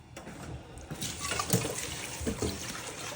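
Tap water runs into a sink while fresh pechay, or Chinese cabbage, is washed by hand, a soft continuous stream broken by splashes and drips as the leaves are moved under the flow.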